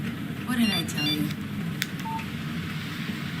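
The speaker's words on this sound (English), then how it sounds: "Text message from Barry." In the Alan Wake video game, a phone text-message alert gives a short electronic beeping chime under low ambient background noise, with a faint voice briefly audible.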